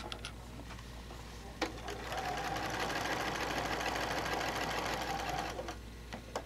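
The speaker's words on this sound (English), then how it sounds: "I'm going to stitch about 1/8 inch from the edge" A sewing machine stitches quilt binding about an eighth of an inch from the edge, a fast steady whirring run lasting several seconds, bracketed by quieter clicks and handling noise before and after.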